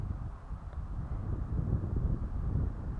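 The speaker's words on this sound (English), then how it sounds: "Wind seems to have picked up a little bit." Low, steady wind rumble with soft buffeting against the microphone, fairly quiet and unbroken throughout.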